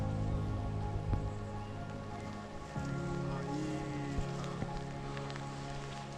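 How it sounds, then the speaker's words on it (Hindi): Steady rain falls around hikers on a misty Himalayan trek on the Kuari Pass trail, a continuous soft patter with a low droning hum underneath and a few louder drops or knocks, with no voices. "बारिश स्टार्ट हो गई अचानक से, माहौल एकदम धुंधला धुंधला हो गया है"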